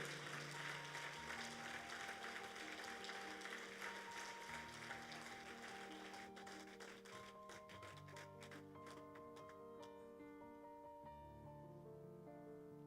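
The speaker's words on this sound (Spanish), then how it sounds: "Dale esa ofrenda de palmas a Jesucristo." A church congregation gives a round of applause to Jesus Christ during a sermon, dense clapping that thins out over the stretch while sustained organ or keyboard chords play underneath.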